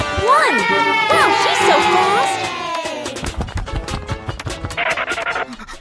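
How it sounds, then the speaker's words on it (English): Cartoon crowd cheering at an animal race, loud excited shouts and whoops from children close by, followed by scratchy scuffling and running noises. "The cheers from the crowd get louder, and the tension rises."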